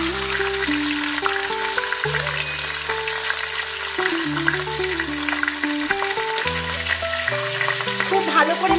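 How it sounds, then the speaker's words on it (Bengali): Katla fish heads fry in well-heated mustard oil, a loud, continuous hiss and crackle running the whole time beneath steady background music. "খুব ভালো করে মাছের মাথাগুলোকে ভেজে তুলে রাখবো"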